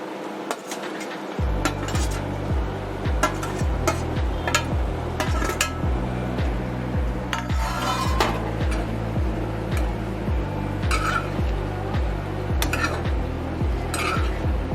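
Fried arbi (taro root) added to a pan and stirred, with steady rhythmic metal clinks of a spoon scraping the pan, repeating about every half second after a short quiet start, fairly close.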